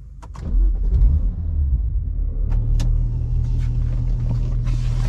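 A BMW engine with a dual-clutch transmission swap and single mass flywheel cranks and catches, then settles into a loud, steady low idle rumble with a few small clicks over it, in a car park.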